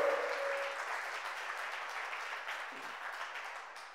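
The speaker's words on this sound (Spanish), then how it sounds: "dele un aplauso si está despierto aquí" Church congregation clapping during a sermon, a steady, fairly faint wash of applause that holds throughout and tapers slightly toward the end.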